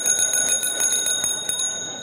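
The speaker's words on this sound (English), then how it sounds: "If you can hear my bell" A handheld bell rings repeatedly at a talk, with bright, quick metallic strikes sounding at a steady pace, close and clear, with no talking over it.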